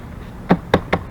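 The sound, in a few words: Honda CB1100 pannier case latched and key turned in lock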